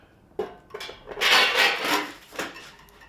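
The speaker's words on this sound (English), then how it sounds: "If I put the lid on" A lid placed on a fire lamp lantern sculpture makes several close knocks and clunks, then a longer scraping, rubbing slide as it settles, ending with a last tap; no talking.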